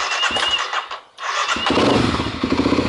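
A DTX 250 motorcycle engine starts up, a brief crank and pause giving way to a loud, steady close-range idle with a rapid low thumping pulse.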